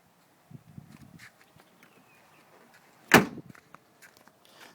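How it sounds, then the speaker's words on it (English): A car door on a 2000 Audi S4 shuts with one sharp, close thud, preceded by soft handling clicks and rustles of opening, quiet and without speech. "The doors open and shut like new."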